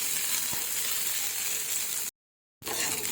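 Coriander and green chilies sautéed in a pan for spicy kharda chicken produce a continuous bright sizzle of frying oil, close and steady, broken by a short silent gap near the end, with no talk.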